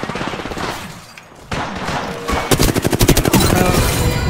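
Rapid automatic gunfire rings out in an Apex Legends Arenas match, starting with scattered shots and building into a loud, fast burst of closely spaced rounds near the end.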